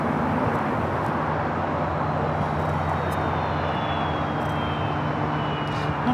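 A Boeing 747 jet roars steadily at LAX, a broad continuous rumble with a faint rising whine, heard from a distance with no talk.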